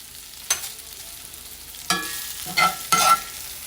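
Peppers and onions hit a hot foil sheet on a grill, giving a few bursts of sizzle and scraping stir sounds at separate moments over a low background hiss.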